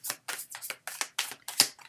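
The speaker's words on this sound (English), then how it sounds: "So what I'm doing is I'm shuffling till one card falls out." A deck of tarot-style clarity cards being shuffled by hand, with about seven quick riffling bursts in a steady rhythm, close and crisp with short pauses between.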